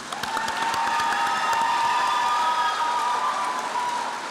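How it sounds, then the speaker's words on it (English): Audience applause at a school media award night, a steady wash of clapping with light cheering from a crowd, sustained and fairly loud across the whole stretch. "So if we could get a round of applause for them."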